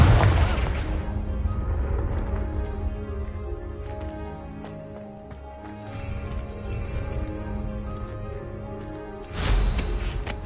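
The Confringo fire spell from Hogwarts Legacy explodes in a loud burst with a rumbling boom. A quieter rumble follows, and a second blast comes near the end.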